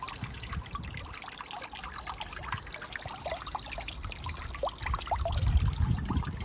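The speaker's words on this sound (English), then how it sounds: "Loads of water coming out." Water trickles and dribbles steadily out of the air filter housing of a Land Rover Freelander 2, a close, fine splashing stream that grows heavier toward the end.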